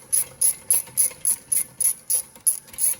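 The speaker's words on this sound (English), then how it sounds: "Yet again with our handy dandy ratchet here." Hand ratchet clicking during rear brake work on a 2018 Subaru Outback, sounding as about ten evenly spaced bursts of sharp metallic clicks, close and clear with no talk.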